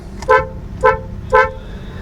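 A Hyundai Venue HX5 compact SUV's horn sounds three short, loud, evenly spaced toots at close range.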